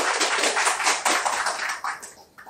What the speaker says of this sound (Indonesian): Tepuk tangan dong buat Bang Ical dong